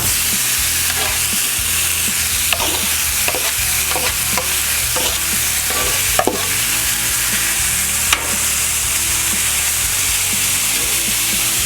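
Skirt steak sizzling on a hot griddle, a loud, steady frying hiss with scattered scraping and tapping sounds from a spatula, no talking.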